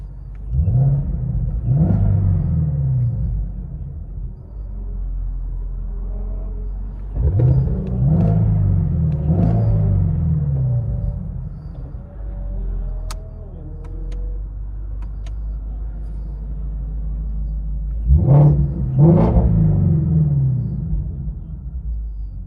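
From inside the cabin, a 2017 Ford Mustang GT350's 5.2L Voodoo V8 with resonator delete and X-pipe rumbles deeply, swelling through three distinct revs between steady idle-like drone.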